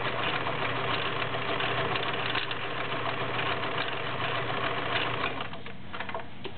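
A vintage Kenmore convertible free arm model 1625 sewing machine stitches a zigzag, its rapid mechanical whir and clatter running steadily and close, then easing off slightly near the end.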